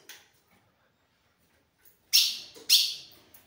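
A pair of blue grosbeaks (azulão) calling, two loud, bright bird calls close together after a long near-silent stretch, with a faint call at the start.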